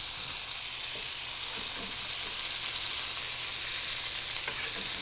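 Onions frying in hot butter in a pan, a steady, loud, close sizzle that holds evenly throughout with faint crackles and no talking.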